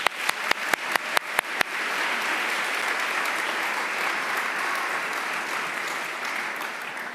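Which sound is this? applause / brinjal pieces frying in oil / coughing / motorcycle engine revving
applause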